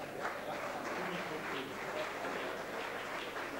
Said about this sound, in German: Dann Applaus in der Mercedes-Vertretung für Steven Bauer